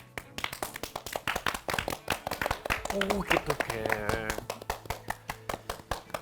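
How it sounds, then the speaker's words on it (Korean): Rapid hand clapping from a small group in a quick, dense patter. It is close and loud and mixes with voices talking and reacting over it. "박수."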